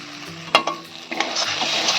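Masala paste frying and sizzling in oil for a potoler dorma with prawns, a steady close hiss with a couple of sharp spoon scrapes and clinks.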